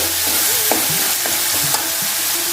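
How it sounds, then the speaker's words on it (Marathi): Chopped coriander leaves sizzling in a hot oil tempering for a prawn curry, a dense, continuous close hiss with a few light stirring knocks and no talk. "यातच आपण थोडीशी कोथिंबीर घालणार आहोत फोडणीतच"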